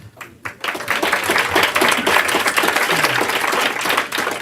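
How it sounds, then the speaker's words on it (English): An audience at a criminal justice reform conference bursts into sustained, dense applause that swells quickly after a brief pause and holds steady for several seconds. "which truly deserves a round of applause"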